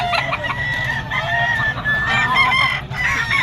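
Gamecock roosters and stags cluck and call at a busy open-air pet market in Bocaue, Bulacan, several birds sounding in overlapping bursts against steady crowd background noise.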